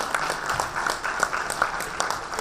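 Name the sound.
audience clapping for a guest on stage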